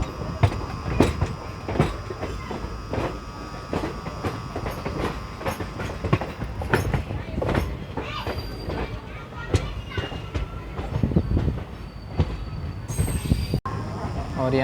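An express train pulls into Kazipet Junction railway station, with clattering wheels, rail clicks and squealing metal rolling loud and near, while voices murmur faintly under the noise.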